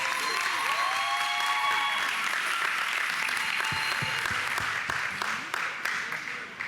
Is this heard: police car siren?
no